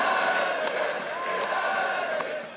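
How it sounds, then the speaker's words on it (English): Esports arena crowd cheering for Fnatic at the 2015 EU LCS Summer Playoffs League of Legends grand final, a dense, steady roar of many voices held throughout with bright shouts rising briefly above it. "Looks like the crowd wants Fnatic Gen to win."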